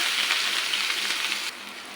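Chopped onions hit hot oil with cumin seeds and a bay leaf in a pan for mushroom gravy curry, a loud, dense, even sizzle that steps down slightly in level partway through, with no voices.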